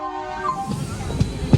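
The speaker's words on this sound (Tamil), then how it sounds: "நம்ம ட்ரெயின் கிளம்பிடுச்சுங்க." A passenger train pulls away from a station platform, with a sustained horn tone at the start, then low rumbling and a couple of sharp clunks as it begins to move.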